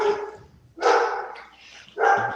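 A dog barks loudly several times up close, in a quick sequence of three sharp, harsh barks.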